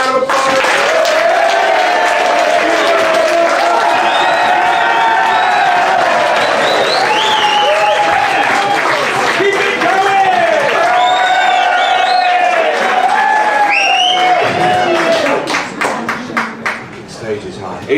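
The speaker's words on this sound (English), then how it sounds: "let's hop into a good strong round of applause" A comedy club audience at a live stand-up gig bursts into loud, sustained applause with whoops and cheers, the clapping dense and close for most of the stretch before thinning out near the end.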